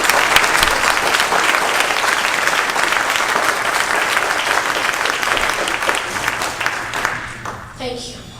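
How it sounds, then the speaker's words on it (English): A crowd at a scholarship awards ceremony applauds in a full, continuous round of clapping that slowly eases off, with a speaking voice emerging at the very end. "just give them a round of applause."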